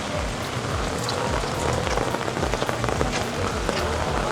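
Heavy rain pounds a surface at Toon Lagoon in Islands of Adventure in a dense, steady patter, loud and close throughout.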